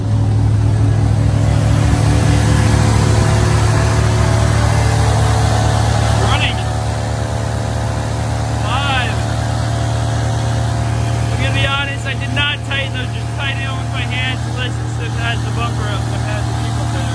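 The engine of a 1981 Ford LTD Crown Victoria two-door barn find runs at a steady, fast idle that sits too high. The engine drones loud and constant throughout, and voices talk over it.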